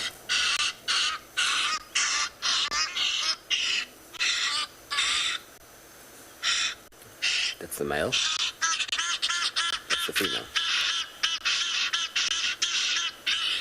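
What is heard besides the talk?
hadeda ibis calls, male and female, played recording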